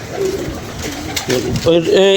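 Pigeons coo close by in soft, low, rolling calls that grow louder toward the end, with a voice talking underneath.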